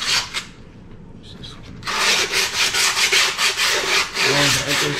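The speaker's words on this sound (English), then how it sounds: "Give her a good old sand down." A skateboard deck gets sanded down by hand: after a quiet start, close, loud rhythmic rasping strokes repeat about every quarter second, with a brief voice just before the sanding begins.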